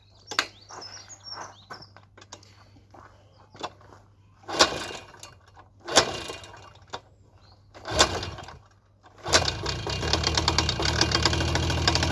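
A Tomos A35 Flexer moped engine coughs in several separate loud bursts, then catches and runs steadily in a continuous buzzing idle, close by.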